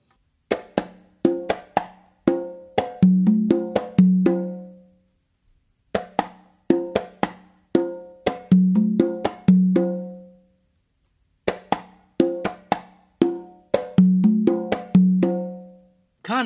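Full cumbia rhythm on three congas: a steady cycling groove of tonal open strokes and sharp slaps, repeated three times with brief gaps, played solo and up close.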